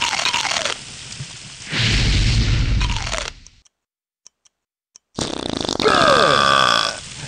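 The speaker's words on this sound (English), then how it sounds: "You can eat a chili pepper and press the white button to burp flames." Shrek lets out loud, crackly burps of fire after eating a chili pepper in the original Xbox Shrek game. Several long belches come separated by a stretch of near silence with a few faint ticks, and game music and effects play under them.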